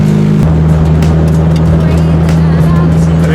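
A car engine running rich while being driven, a loud steady low drone with a constant hum close inside the cabin, its tone shifting once near the start.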